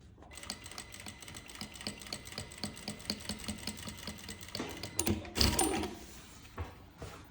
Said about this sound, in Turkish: Bu şekilde ayarladıktan sonra buradan bir milimden makinamı çekiyorum